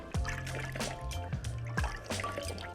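Water trickles and splashes in short bursts as face cleanser is rinsed off skin, close and moderately loud with no talking.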